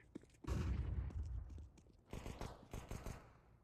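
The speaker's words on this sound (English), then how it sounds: "I'm throwing a flashbang." A loud burst of explosive, gunfire-like cracks from a Counter-Strike match, including a flashbang grenade, followed by a lull and then a second cluster of sharp rapid shots, with no talking.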